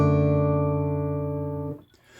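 Fingerstyle acoustic guitar chord from a Randy Newman "When I'm Gone" arrangement, rolled as an arpeggio over three notes, then a short pause and a final note; the chord rings sustained and close, fading near the end.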